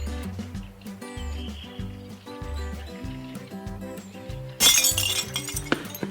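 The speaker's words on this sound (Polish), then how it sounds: "Ceramikę wyrzucamy do odpadów zmieszanych." Ceramics thrown into mixed waste land with a sudden bright crash and clatter of breaking pieces partway through, over a rhythmic musical background.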